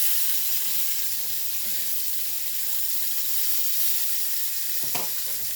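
Salisbury steak patties sizzle and crackle steadily in hot oil in a frying pan, with a brief scrape and clatter near the end as they are flipped.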